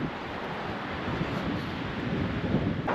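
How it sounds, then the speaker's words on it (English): Steady desert wind rushes and buffets the microphone in dusty air near turning windmills, a continuous broad roar with gusty swells and no voices. "We got a little bit of wind going here."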